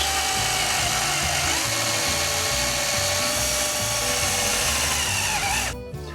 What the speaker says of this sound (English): Now drill a 5/16 hole through the leg.